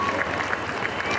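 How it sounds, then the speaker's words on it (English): Audience applause honoring women's jingle dancers at a pow wow exhibition in a mall, a steady wash of clapping filling the short stretch at even loudness. "big round of applause for these ladies."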